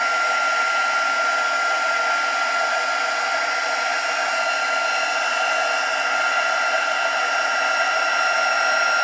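A heat gun blows steadily for several seconds while heat embossing a swirl design on a handmade card, a loud, even whooshing hiss close by with no pauses or voices.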